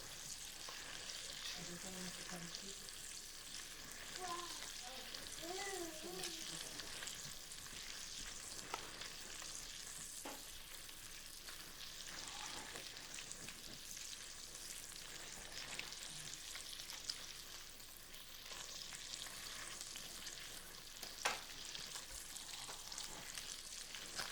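Risotto stirred in a pan makes a faint, continuous soft sizzle with light scraping, and brief voice-like tones surface early on under the cooking noise.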